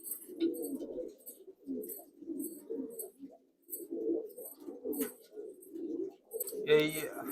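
A breeding pair of all-white Malbai show pigeons in a loft coos in soft, repeated low murmurs throughout, close by, with someone talking over them.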